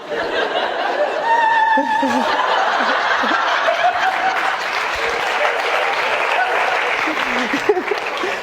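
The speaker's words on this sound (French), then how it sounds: "vous applaudissez à ça" Audience at a French stand-up comedy show claps steadily while laughter and chuckles ripple through the crowd, with some voices mixed into the ongoing applause.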